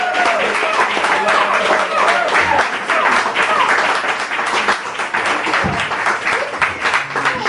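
Open-mic audience applauds a singer with sustained, dense clapping from a full room, steady and loud for several seconds, with some voices and cheers mixed into the crowd noise.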